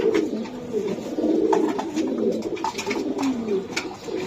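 Racing pigeons coo in a loft, a low continuous murmur of overlapping throaty calls from several birds close by, steady throughout with no talk.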